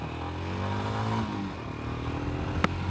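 Royal Enfield Himalayan 411 motorcycle engine revving and pulling away, a steady droning engine note with rising harmonics, close and continuous, with a brief sharp click near the end.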